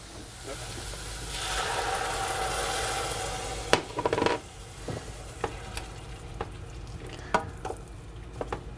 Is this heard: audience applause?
no